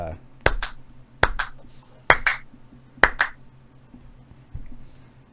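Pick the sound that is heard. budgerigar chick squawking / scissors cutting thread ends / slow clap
slow clap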